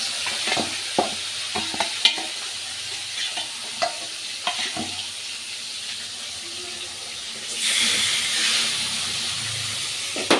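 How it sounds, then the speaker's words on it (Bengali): Fish fries in oil in a wok: a close sizzle carries repeated clinks and scrapes of a utensil, then a louder burst of spitting hiss toward the end. Nobody talks. "মাছ ভাজা হচ্ছে"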